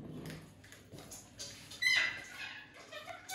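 A pet parrot gives a short, sharp squawk in the middle of a quiet indoor stretch, with faint shuffling and rustling around it.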